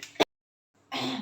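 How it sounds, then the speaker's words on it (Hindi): A woman gives a single short, sharp cough, then a moment of silence before she starts speaking quietly. "सॉरी, खांसी आ गई थी।"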